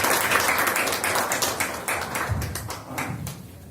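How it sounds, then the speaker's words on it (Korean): Audience at a university executive program lecture in Korea applauding, a dense steady patter of many hands that slowly thins and fades over a few seconds. "박수 한번 다시 부탁드리겠습니다."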